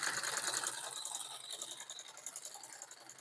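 A sewing machine stitches a shirt collar with a fast, steady mechanical ticking rhythm, close and moderately loud, with no voices.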